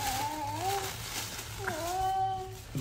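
A pet cat named Gizmo meows twice, drawn-out and wavering, close by at moderate volume, with a low steady hum underneath.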